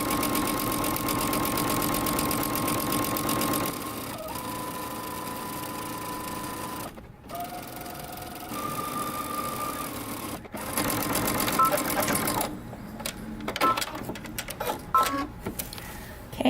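A sewing machine runs steadily, back stitching and then sewing a dress seam, its motor humming continuously with brief pauses and changes in speed toward the end.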